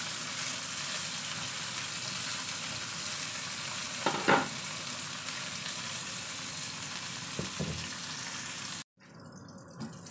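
Liempo (pork belly with fat and skin) sizzles and spatters steadily in a pan, with a couple of sharper pops and stirring clinks along the way before the sound cuts to quieter background near the end.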